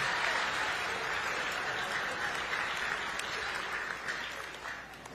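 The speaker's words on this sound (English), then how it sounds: "One more round of applause for Carolyn Sargent." Audience at the PMLP Science Awards ceremony applauding, a steady, fairly faint wash of clapping that slowly tapers off toward the end.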